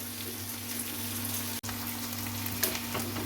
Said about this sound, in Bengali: আমার পেঁয়াজ প্রায় ভাজা হয়ে এসছে